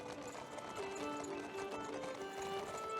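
Horse hooves clip-clop at a steady walking rhythm in a hand-drawn medieval video game, moderately close and blended with sustained tonal background music.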